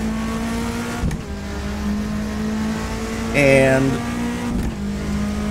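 Toyota Celica ST185 Group A rally car engine in Assetto Corsa at Highlands, a steady droning hum with a brief rising rev burst midway, heard under someone talking.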